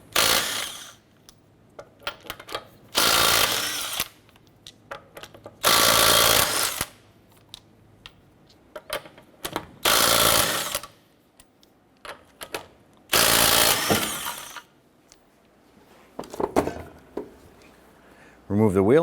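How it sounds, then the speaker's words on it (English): Lug nuts on a 2008-2012 Honda Accord front wheel being spun off with a 19mm socket and power tool, in several loud bursts of a second or two each, separated by short pauses. "Using a 19mm socket, let's go ahead and remove our lug nuts."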